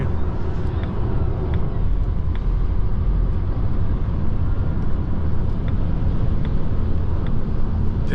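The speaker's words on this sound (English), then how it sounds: "Let's test the acceleration a bit here." Volvo EX30 Twin Motor Performance Ultra AWD electric car (2024) accelerating on a highway, with a continuous broadband rumble of road and wind noise that holds steady and loud, with no engine note.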